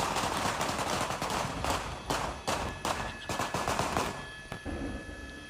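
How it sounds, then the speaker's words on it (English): Gunshots fired at police officers during a standoff with a suspect in a bullet-riddled SUV in Atwater Village, heard as a burst of rapid, sharp cracks mixed with noise, moderately loud and spread across several seconds. "you can still hear the gunshots being fired"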